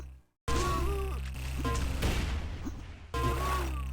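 A shotgun blast in the Sauerbraten shooter during a 2v2 teamplay final: a sudden loud report followed by a couple more sharp shots, with a voice talking underneath.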